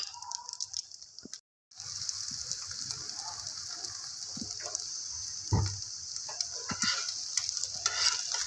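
Eggs fry in a pan for an anjay shami burger, giving a steady bright sizzle that drops out briefly near the start. A few soft clinks and stirring taps sound over the sizzle, and nobody speaks.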